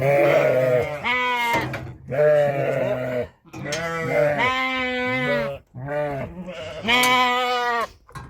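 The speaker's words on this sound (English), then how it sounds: "It's the old lamb." Cheviot lamb bleating loudly and close in a farm handling pen during footbathing and health checks, giving a run of repeated wavering bleats with short pauses between them.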